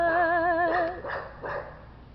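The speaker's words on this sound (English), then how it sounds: "that damn dog start barking" A dog barks in a few loud, close yelps with a whining, wavering tone at first, then two or three sharper barks spaced about half a second apart.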